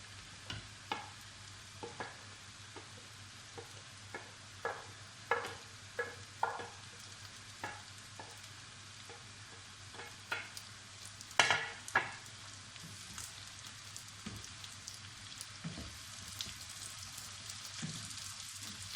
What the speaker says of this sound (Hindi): अब इसमें प्याज डाल लेते हैं